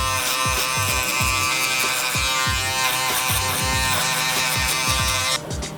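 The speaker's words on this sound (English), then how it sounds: "you're gonna grab your shaver and you're gonna clean up that bottom neck area right there" Electric shaver buzzing steadily and loudly up close while cleaning up the bottom of the neck during a high taper fade haircut, with brief rhythmic dips as it passes over the skin; no talking.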